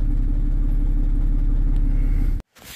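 A car engine idling after its catalytic converters were cleaned, heard close and loud as a smooth, steady low rumble with an even pulse before it cuts off abruptly near the end.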